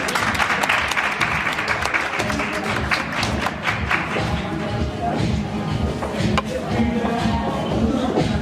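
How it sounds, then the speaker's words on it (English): A round of applause at a learning centre graduation ceremony for a graduate, loud and close, with a thick continuous patter of clapping hands and some crowd voices mixed underneath. "One more round of applause for Khadija, please"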